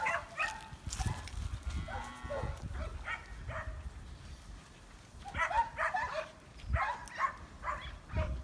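Cattle being moved out of a farm yard, with mooing and lowing calls and a dog barking intermittently, heard at close range over a steady outdoor background with scattered animal movement.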